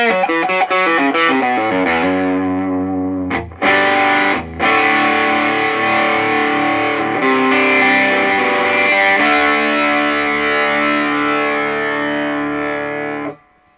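Electric guitar running through a Danelectro Vibe pedal with distortion, playing sustained chords and riffs loudly and continuously for about fourteen seconds, with two brief gaps, a subtle modulated wash blended into the overdrive and no voices.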